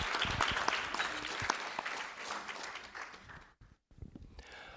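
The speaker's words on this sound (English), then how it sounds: "Let's give them one more round of applause for the inaugural Impact Award." An audience claps through a steady round of applause at a school district board of trustees meeting for an award presentation. The clapping fades out near the end.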